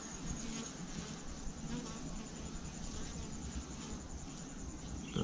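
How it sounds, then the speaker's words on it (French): Bees buzzing steadily as they come and go from their hive, a soft continuous hum with small rises as individual insects pass close, heard outdoors without talking. "on se lasse pas de regarder ces petites abeilles là qui rentrent, qui partent"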